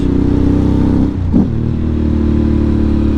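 Loud, close Ducati Monster motorcycle engine rumbling steadily, with a quick shift in pitch and a brief clatter before the throaty drone resumes.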